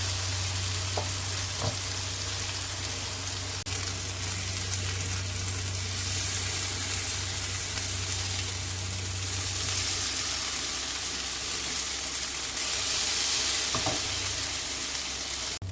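Samosas frying in hot oil, a continuous close sizzle and crackle, with a few light clinks as they are turned over to cook evenly on all sides.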